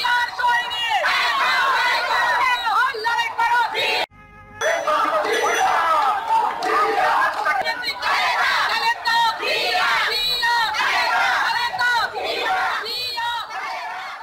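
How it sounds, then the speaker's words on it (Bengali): BNP party activists chanting the Bangladesh Zindabad slogan as a loud, dense crowd, voices shouting in rhythmic bursts almost without pause, with one brief break partway through. "দেশকে সবার উপরে রেখেই বাংলাদেশ জিন্দাবাদ স্লোগানটি দিয়ে থাকেন বিএনপি দলের সাথে জড়িত সংশ্লিষ্ট নেতাকর্মীরা"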